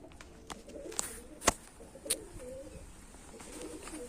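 Pigeons in a rooftop loft with adults and young birds out in the sun give soft, low cooing at close range, with a few sharp clicks and flutters in between.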